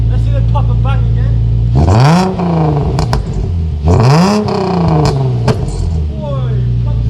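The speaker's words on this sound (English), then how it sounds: "Let's see the pop and bang again." Two sharp engine revs from an idling Nissan 350Z with a decat exhaust, each followed by crackling exhaust pops and bangs as the revs drop, loud and close.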